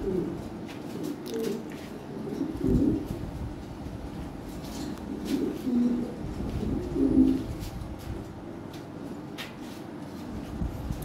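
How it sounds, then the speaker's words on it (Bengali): Toy Lahore Siraji pigeons coo in several low, soft, rolling bursts, close by, over faint background hiss and occasional light rustles. "একদম নিখুঁত কবুতর"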